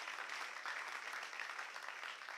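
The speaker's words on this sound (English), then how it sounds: "let's give them a big round of applause." An audience at a national girls' speech and debate championship applauds the debaters, a faint, continuous patter of many hands clapping that stays even throughout.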